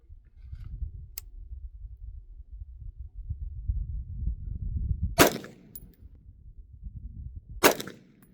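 An AR rifle with a 1-in-7 twist barrel fires 55 grain bullets outdoors, two sharp, loud shots spaced a couple of seconds apart over low rumbling background noise.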